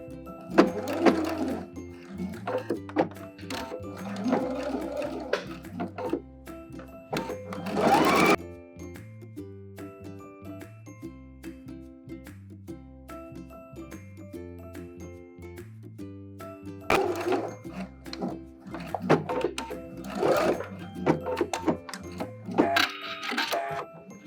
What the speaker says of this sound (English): I'm gonna stitch this down with a regular stitch and don't forget to backstitch